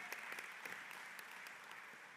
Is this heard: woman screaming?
no